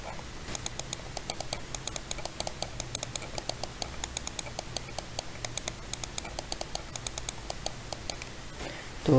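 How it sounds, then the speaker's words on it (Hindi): Rapid clicking of several budget computer mice, including an HP M10, with dense bursts of sharp close clicks and quieter scroll-wheel ticking running steadily for several seconds, no speech. "तो ऐसे कुछ साउंड आते हैं क्लिक्स एंड स्क्रॉल में।"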